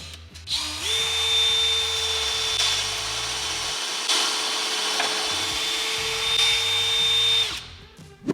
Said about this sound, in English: Use your drill bit.